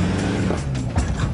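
A Toyota Hilux towing a trailer rumbles and grinds over a log on a rough Cape York bush track, a loud, close, low engine drone with scraping, straining mechanical noise.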